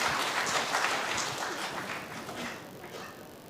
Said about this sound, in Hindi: तालियां बजाइए भी।